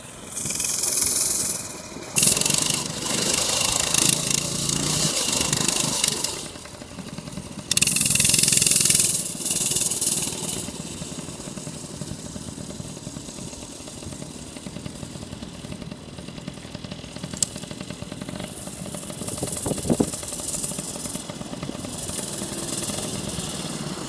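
Coleman CT200U trail bike in a full-speed maximum braking test, its small engine revving loudly up close for several seconds, then dropping to a steadier, quieter idling rattle with a faint whine through the rest.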